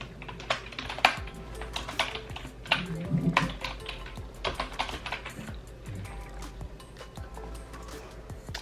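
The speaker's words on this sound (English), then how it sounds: "you will type in your email address to get started" Rapid clicking of keys on a computer keyboard while an email address is typed in, steady close-up keystrokes with a few louder taps and no talking.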